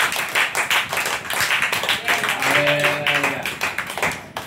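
A church congregation claps hands loudly and steadily in worship, a dense run of sharp claps throughout, with a brief sustained musical tone rising partway through.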